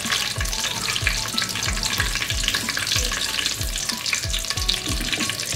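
Whole cloves, cumin seeds and black peppercorns fry in hot oil with a steady loud sizzle, broken by regular scraping strokes of a spoon stirring the spices, with no talking.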